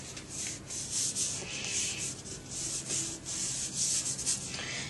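Steady rubbing of a hand or tool smoothing paper over a Mod Podge-coated decoupage piece, a soft continuous scuffing with repeated strokes, close and fairly quiet, with no talking.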